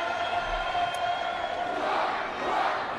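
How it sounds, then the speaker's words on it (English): A basketball game crowd cheering and roaring in a sustained, steady wash of voices, continuous across the moment without clear breaks. "It's a fun crowd."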